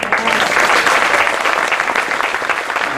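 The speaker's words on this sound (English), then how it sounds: "I think these 3 gentlemen have deserved applaud" Cruise passengers aboard the Regent Seven Seas Mariner applaud the ship's officers, a dense, sustained round of clapping from a large crowd that stays loud and steady throughout.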